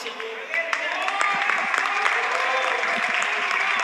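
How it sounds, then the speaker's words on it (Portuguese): A church congregation at an Assembleia de Deus Madureira service claps loudly and continuously, with voices rising over the dense applause. "Aplauda o Senhor nessa manhã."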